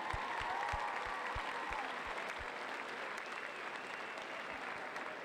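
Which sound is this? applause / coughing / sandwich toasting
applause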